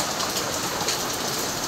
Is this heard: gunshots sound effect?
no